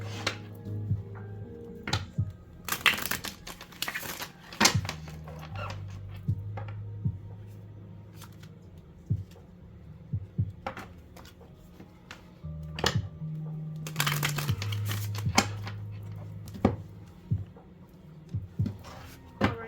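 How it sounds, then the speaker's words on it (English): Tarot cards are shuffled in two crisp, rapid bursts of riffling and flicking, with a low hum and soft music in the background. "Meanwhile, I get my shuffle on with this deck."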